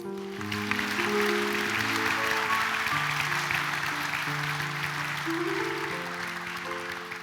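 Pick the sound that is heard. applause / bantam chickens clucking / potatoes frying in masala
applause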